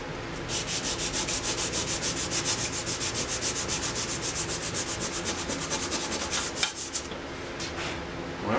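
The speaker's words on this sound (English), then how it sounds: "I'm going to give a little light sanding where it squirts the wood around it a little bit" Light hand sanding on a handcrafted wooden DVD cabinet makes rapid, even back-and-forth rubbing strokes, a steady scratchy rhythm of about four strokes a second that runs close and continuous, then pauses briefly before resuming.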